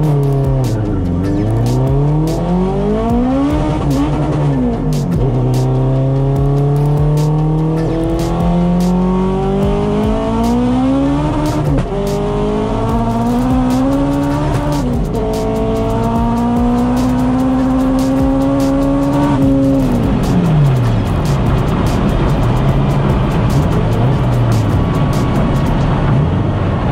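A Honda Integra Turbo race car launches hard at a half-mile event, engine screaming through rising revs, then the shift from first to second is fumbled and the pitch sags before climbing again, loud and continuous with no talk.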